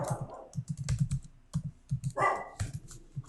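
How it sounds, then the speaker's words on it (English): Fast clicking keystrokes on a computer keyboard close by, irregular bursts of taps with a brief muffled noise in the middle. "I should just type that in here, but I will type that in here."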